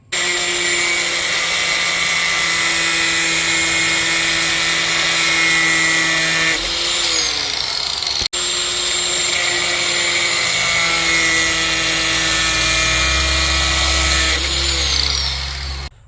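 A power tool cuts through metal during a welding repair job, giving a loud, steady, close-up whine that runs almost unbroken, with a brief cut-out midway and slight shifts in pitch as the blade bites.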